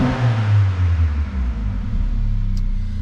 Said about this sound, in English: Open the door, give it another rev